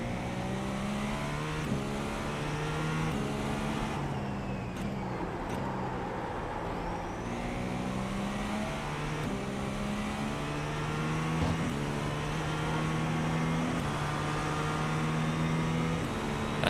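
Many GT3 race cars circle the Indianapolis track in iRacing, their engines droning and shifting together in a dense, continuous layered roar with overlapping upshifts and passes.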